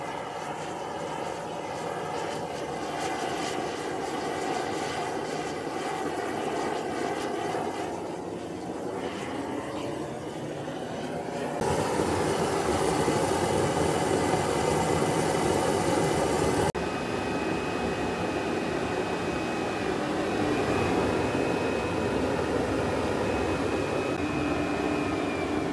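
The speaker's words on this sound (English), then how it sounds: "This uses compressed air and a blower at the same time" An incinerator burner roars steadily, driven by compressed air and a blower at once, a loud broadband rushing drone that shifts and swells partway through before settling into a continuous roar.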